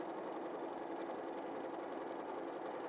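Sewing machine stitching a quilt along a central line, giving a steady, quiet, even mechanical whir with no talk.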